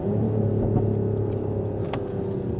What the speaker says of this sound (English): listen to the pops and bangs and the exhaust and the 6-cylinder of it